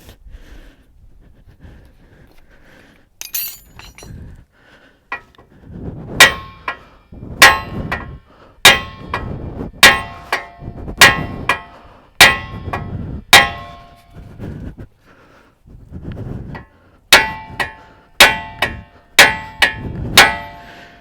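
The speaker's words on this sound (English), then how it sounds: "I'm going to be hammering on this for a little bit" Heavy hammer blows ring out against the ball joint of a 1992–2000 GM 4WD K truck, coming in rapid bursts of sharp metallic clangs with brief pauses between, close and loud with no talking.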